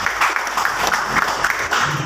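An audience applauds at an indoor product presentation for a coffee product, with a steady brief patter of many hands clapping at moderate volume.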